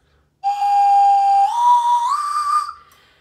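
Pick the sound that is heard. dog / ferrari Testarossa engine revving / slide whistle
slide whistle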